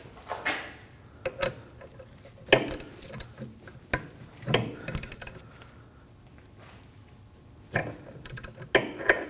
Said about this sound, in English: Using an 11mm socket, we're gonna go ahead and remove the banjo bolt from the caliper.